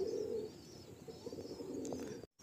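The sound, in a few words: Madrasi old line pigeons cooing in a loft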